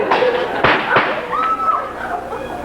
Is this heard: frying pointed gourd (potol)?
no